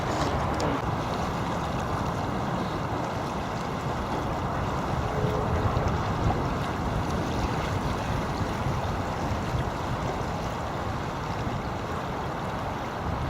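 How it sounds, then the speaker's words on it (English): Strong wind on Bray Lake buffeting the microphone during a small-boat sailing trip, a loud, constant rumbling roar with a water-and-hull wash beneath it and no talking. "I can't really tell because there's such a high wind now."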